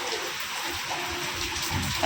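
First monsoon rain falls steadily in Mumbai, a soft continuous hiss of drops lasting a couple of seconds at moderate volume, with no voices over it.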